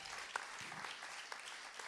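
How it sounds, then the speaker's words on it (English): Audience applause at a KFM-BFM Origins concert in San Diego, a steady wash of clapping from a crowd with a few sharper claps standing out. "Huge round of applause, KFM-B, for putting this thing together, y'all."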